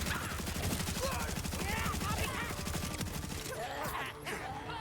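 A grenade goes off in Borderlands as a dense, rattling barrage of rapid blasts and crackles, loud and sustained before tapering off, with a voice talking underneath.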